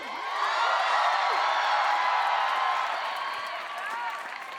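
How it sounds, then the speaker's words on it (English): An audience at a UCLA KCN 2019 stage production cheers, whoops and claps for the performers, forming a dense, loud, sustained roar of voices and high-pitched shouts that slowly eases toward the end. "let's give one last cheer for Modern"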